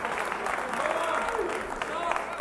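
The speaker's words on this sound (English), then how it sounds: "Can we get a round of applause here for the King of Violence?" Crowd applause greeting a fighter introduced on a podcast episode, fairly quiet and steady, with voices talking and murmuring over the clapping throughout.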